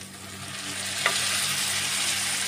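Chana chilli being stirred with soy sauce in a pan gives a steady, close broadband sizzle with one brief scrape of the spoon partway through, and no voices.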